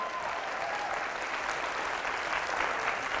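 At a Social Media Day keynote on Snapchat for business, a roomful of social media professionals claps steadily, a soft, even wash of applause heard from a distance throughout.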